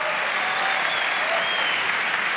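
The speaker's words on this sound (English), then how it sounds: "Big round of applause" An audience at a Basel Symphony Orchestra session applauds in a steady, dense wash of clapping that holds at an even level throughout, with no voices over it.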